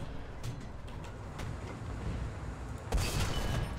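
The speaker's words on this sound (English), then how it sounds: "let's go ahead and call in an airstrike" Airstrike explosions in the War Thunder video game rumble over steady battlefield noise, with scattered distant booms and a louder blast near the end, no voices heard.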